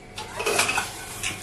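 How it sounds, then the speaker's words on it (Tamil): Dishes, pots and pans being washed in a home kitchen, with a quick run of metallic clinks and clatters close up over a short stretch and no voices. "இப்போதைக்கு இருக்கிற பாத்திரத்தை எப்பயுமே நான் கழுவிடுவேன்."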